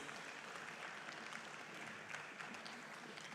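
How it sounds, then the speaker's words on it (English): Trade fair audience applauding as speakers leave the stage, steady dense clapping throughout the brief moment, faint and distant. "One more round of applause as they exit the stage."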